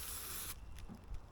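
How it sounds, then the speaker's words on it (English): An aerosol spray can hisses steadily while spraying Indian red paint onto a scooter, a loud continuous jet that cuts off abruptly, followed by faint handling clatter. "Spray"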